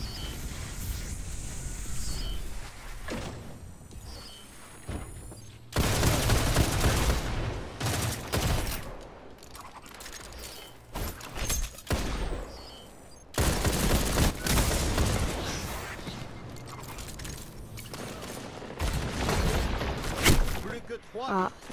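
Rapid bursts of video game gunfire from a fast-drawing weapon, loud and close, coming in dense volleys broken by brief pauses, with someone speaking French over it.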